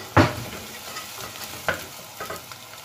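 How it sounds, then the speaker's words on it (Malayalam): Sliced onions sautéing in a pan for pav bhaji, a soft sizzle under three distinct spatula scrapes, the first loudest, heard close with no talking. "നമുക്ക് ഇതിലേക്ക് ഈ സവാള ചേർത്ത് വഴറ്റിയെടുക്കാം"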